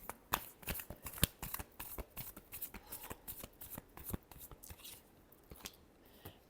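A deck of tarot cards being shuffled close up, a quick run of soft riffling flicks and taps at an uneven rhythm, quiet and alone with no voice.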